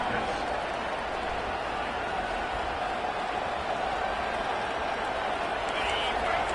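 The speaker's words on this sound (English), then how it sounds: "The crowd getting behind this defense as they try to get a stop in the red zone." A stadium crowd roars continuously at an NCAA football game as fans rally behind the defense in the red zone, a broad, sustained wash of cheering.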